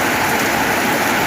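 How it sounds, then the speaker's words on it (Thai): Heavy rain pours over farm fields and rice paddies on a cold day, a dense unbroken hiss filling the short stretch with no voices. "ฝนตกผัดหนาวแบบนี้เนาะ"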